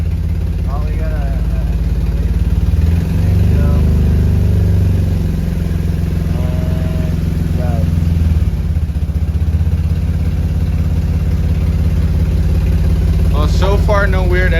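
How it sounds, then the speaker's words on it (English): A Nissan G35 with a VQ35DE engine idles in drive at a steady low rumble, loud and constant throughout, while someone talks over it. "And we're at like steady 650 idle in drive."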